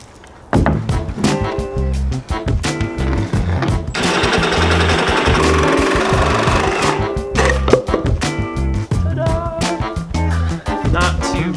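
Jigsaw cutting bowed plywood: a loud, steady rapid buzzing chatter of the reciprocating blade, running continuously for most of the stretch with slight changes in pitch and load.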